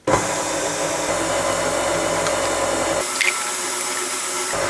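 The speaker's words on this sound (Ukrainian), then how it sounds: "Перемішуємо борошно з цукром та сіллю на низькій швидкості" An electric mixer runs at low speed, kneading flour, sugar and salt into dough for Christmas doughnuts, a close, steady whirring hiss whose tone drops slightly partway through.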